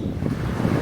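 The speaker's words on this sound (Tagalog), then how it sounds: "yung tunog ng dagat, sobrang calming" Sea waves wash onto the shore at Boracay during stormy weather, heard as a short, close, low rumbling surge mixed with wind buffeting the microphone, with no voices.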